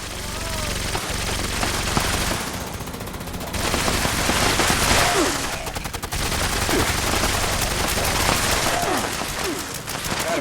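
Sustained automatic gunfire during a Fallout 76 daily ops fight on PC, loud, dense bursts of rapid shots running nearly throughout with brief lulls, mixed with game effects and some voice.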